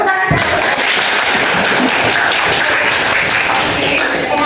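Classroom applause from students during a guided teaching practice lesson, a dense, steady wash of clapping filling the whole stretch at full loudness after a brief opening.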